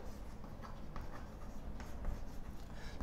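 A fraction being handwritten for a math lesson: faint, soft scratching strokes of writing close by against a quiet room hiss, with no voices.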